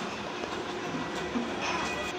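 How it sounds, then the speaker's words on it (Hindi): Steady rumble of a metro train ride in India, with continuous wheel and rail noise and faint clicks, heard from inside a carriage over its full length; no clear talk. "मेट्रो पकड़ के अभी घर वापस जा रही हूँ"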